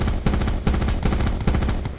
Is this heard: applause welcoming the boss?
no